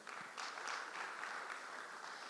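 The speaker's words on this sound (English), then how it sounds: "A round of applause for her." An audience at a Ghana CEO summit claps for a speaker being introduced, a faint, distant patter of applause that holds steady for a couple of seconds.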